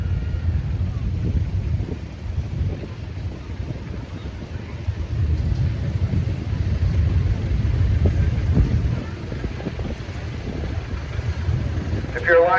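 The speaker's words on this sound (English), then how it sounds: "This is a Model AA Farmall. It's a double Model A Farmall" A Farmall Model AA tractor, a doubled Model A owned by Chuck Dengler, rolls past in a steam and gas engine society parade, its low engine rumble steady under heavy outdoor wind noise.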